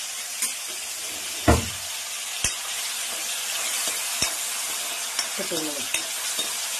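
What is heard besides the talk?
mushrooms frying and sizzling in oil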